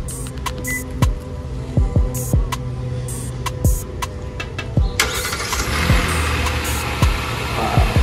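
A 2023 Kia Telluride SX Prestige starts up with a new key fob, its engine settling into a steady running hum while repeated sharp clicks and mechanical clunks punctuate the idle nearby.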